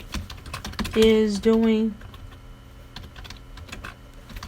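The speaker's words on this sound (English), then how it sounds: "Sorry for my typing." Computer keyboard keys clatter in quick irregular taps, with a short burst of speech partway through and typing continuing around it.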